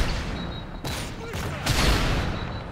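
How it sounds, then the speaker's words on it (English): UMP gunfire and a C4 blast in Modern Warfare 3, heard as quick bursts of shots and sharp explosive thumps amid busy in-game noise, with a voice talking over the action. "I'm coming in, I shoot, and it blows up"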